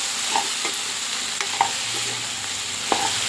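Cucumber and tomato curry stirred in a pot over a medium flame, a continuous hiss of simmering under occasional soft ladle scrapes and a few light clinks, close and steady.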